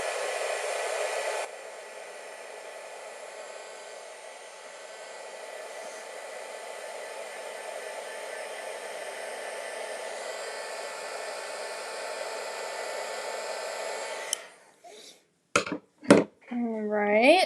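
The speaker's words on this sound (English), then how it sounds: "Hit that with the heat gun." A heat gun blows hot air over jewelry supplies, a steady broadband whoosh that runs nearly the whole time, then cuts off and leaves a few short clatters and bumps.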